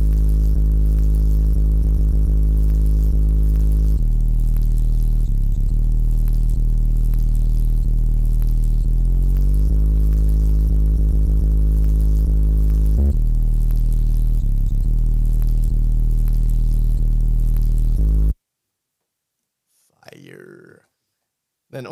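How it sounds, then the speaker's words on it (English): An 808 bass line in an FL Studio beat: a loud, sustained low bass that shifts pitch in several held notes, playing alone for about eighteen seconds before cutting to near silence. "808s can be sound like this."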